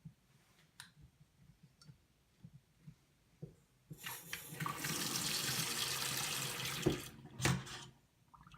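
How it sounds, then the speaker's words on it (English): Water gushes from a newly plumbed kitchen sink tap, a few clicks and knocks from the fitting first, then a steady close rush of flow that swells and briefly splashes. "Now we got running water out here."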